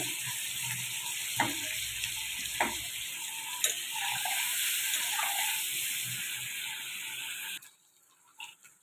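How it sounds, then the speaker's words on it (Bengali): Eggs frying in hot oil with salt and turmeric for an egg curry, a steady close sizzle broken by a few sharp utensil clicks, cutting off abruptly near the end into quiet handling sounds. "এই দেখুন ডিমগুলো লাল লাল করে ভাজা হচ্ছে"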